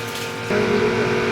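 A small water purifier motor kicks on partway through and settles into a steady, buzzing electric hum over faint background noise.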